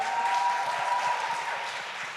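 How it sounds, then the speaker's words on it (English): Audience applause at an awards event in honour of co-host Tyrone, a brief dense burst of many hands clapping together, steady and even throughout with a faint tone underneath. "Let's just clap for Tyrone."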